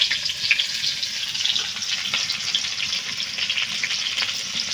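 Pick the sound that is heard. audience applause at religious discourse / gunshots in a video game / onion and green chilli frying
onion and green chilli frying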